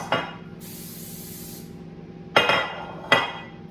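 An aerosol can hisses in one long spray burst, set among a few sharp clinks and knocks of objects being handled nearby.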